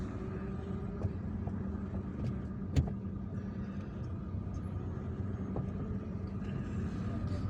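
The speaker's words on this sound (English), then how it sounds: "now we are driving back to the square, to the central square of Harrach" A car drives through traffic from El Harrach in Algiers, its engine and road noise a steady low rumble from inside the cabin, with a faint knock or two and no talk.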